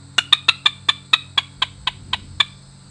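A squirrel hunting call blown at full volume gives a rapid series of about a dozen sharp, harsh chattering barks, close and loud, spaced evenly at first and then spreading out and tapering.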